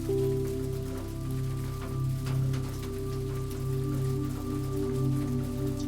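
Steady rain falls on a road at night near a roadside motel, a continuous wash of drops and patter with a low constant hum beneath, no voices.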